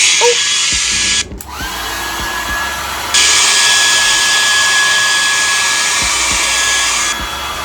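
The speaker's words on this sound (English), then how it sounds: "I had this blow dryer for years." Handheld blow dryer blowing steadily and loudly close by, cutting out briefly then restarting with a higher, stronger roar that holds for several seconds before dropping back, with a few light handling knocks underneath.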